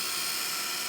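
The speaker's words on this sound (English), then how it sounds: "I'm just going to speed it up with my heat tool" Handheld heat tool drying a stamped paper craft card, a steady high-pitched whirring blower hum, close and continuous.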